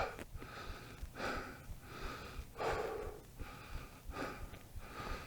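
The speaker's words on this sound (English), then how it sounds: "Sorry, I'm breathing heavy in your ear, but I'm tired." Heavy, labored breathing from a tired hiker climbing a steep hill, with about six deep rhythmic inhale-exhale cycles close to the microphone, loud and breathy with no talking.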